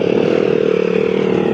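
A motorbike climbing a rough, dusty road: a loud, close, steady engine drone with a fast pulsing throb and rattling texture, with no talk over it.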